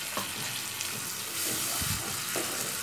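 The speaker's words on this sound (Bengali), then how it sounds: "এবারে আমি এর মধ্যে মশলা দেওয়া জলটাকে অ্যাড করে দিচ্ছি।" Spiced water is poured into a pan of mustard and poppy seed paste frying in oil for a pomfret curry, giving a steady, close hiss and bubbling sizzle with faint splashing and stirring. Nobody speaks.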